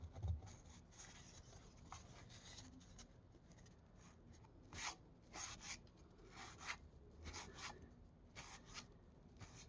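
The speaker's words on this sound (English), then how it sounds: "Definitely gives you that good old classic baseball card feeling opening these wax packs" Faint crinkling and rubbing of 1991 Topps baseball card wax packs being opened, with soft scattered rustles and a few sharper crackles, close and quiet with no talk.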